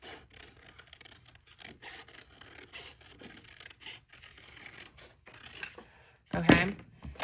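Paper being cut around a tree image for a holiday junk journal page, a soft continuous rasping snip-and-rub sound close up, ending in a louder brief scrape.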